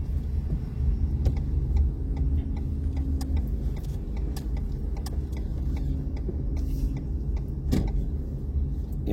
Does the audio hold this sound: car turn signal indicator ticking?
yes